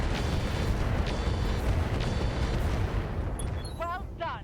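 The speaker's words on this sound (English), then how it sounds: "We can now fire this machine gun." Machine gun fire in the mech combat game RogueTech, a dense, continuous rumbling barrage of game explosions and gunfire throughout, with short electronic chirps near the end and a voice talking over it.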